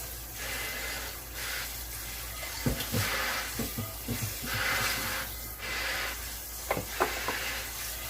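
Tortillas frying in hot oil in a pan, a steady close sizzle with soft pops and occasional clatter of a utensil, no voices over it.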